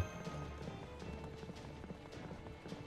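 Galloping horse hooves pull a carriage in the Fate/Grand Order video game, a steady rapid beat of hoofbeats heard up close under dense, busy game audio throughout.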